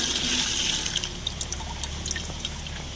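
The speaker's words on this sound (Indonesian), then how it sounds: "Jadi kita siram dengan banyak karena ini harus tersiram semua sampai ke bawah." Water is poured to soak an avocado seedling in its pot, a steady close trickle and splash with a few brighter drips, no voices.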